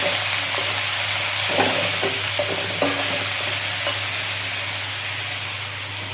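Red amaranth greens sizzle steadily in a hot pan, a continuous close frying hiss broken by a few scraping stirs of a spatula, with no talk.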